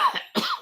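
A single person's cough, two short rough bursts in quick succession, close and clear with no talk.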